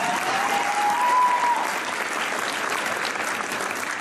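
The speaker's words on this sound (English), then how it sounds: "let's just go ahead and give them a big round of applause" An audience at a high school honors convocation gives a big round of applause, full steady clapping that swells slightly then holds evenly, with a thin whistling tone near the start.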